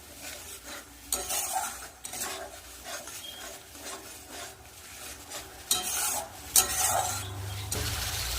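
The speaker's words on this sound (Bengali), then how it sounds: "ভালো করে মশলাটা কষিয়ে নেব" Masala paste with dried chilli powder being sautéed in oil in a pan: continuous close stirring and scraping over a light sizzle, with occasional metallic clinks and no voices.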